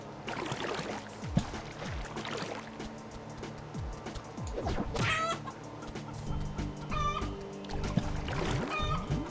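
Clucking from a bird in the video game Corn Kidz 64, a string of short, close chicken-like clucks and squawks scattered over a quiet game background.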